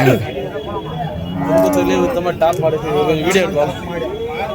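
Cattle moo repeatedly at a busy cattle market, several long lowing calls rising and falling close by, with people talking underneath.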